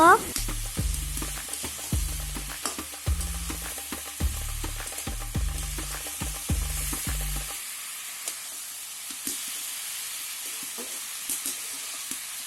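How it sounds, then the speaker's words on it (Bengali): Chicken curry sizzles loudly in a pot, with rhythmic stirring scrapes for several seconds before the pan quiets to a soft, steady sizzle. "এখন নাড়াচাড়া করলো অল্প"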